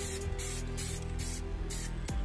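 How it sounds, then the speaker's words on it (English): Short bursts of spray paint hiss from an aerosol can onto a toy in a steady rhythm of quick pulses, close up, over a low background hum. "Just want to lightly spray."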